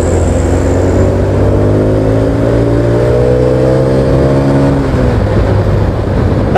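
A Suprax 125 motorcycle with a manual clutch and a welded pulley revs loudly and close by, its engine note climbing steadily for several seconds before dropping back off.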